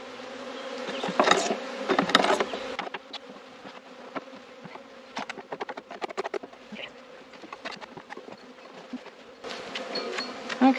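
Honeybees buzz steadily inside a hive during a late-winter cleanout of mouldy bees, a close, dense drone broken by several louder bursts and scattered crackling knocks.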